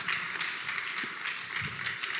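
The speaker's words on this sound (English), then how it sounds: "So give yourselves a round of applause." Conference audience at an awards event applauding, a dense, fairly faint patter of clapping throughout.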